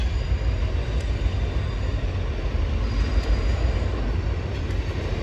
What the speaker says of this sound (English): he's coming out, crossing River Road